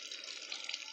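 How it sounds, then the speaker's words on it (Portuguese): A small decorative pump-driven garden fountain trickles water in a steady, soft, continuous splashing hiss, faint and unbroken. "Pra fazer uma espécie de um caimento de água, né? Tipo quase um chafarizinho assim, para enfeitar"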